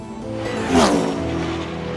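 Kart engine whine from Mario Kart, a steady buzzing motor with a brief rising swoosh and tire-squeal sweep midway, loud and close.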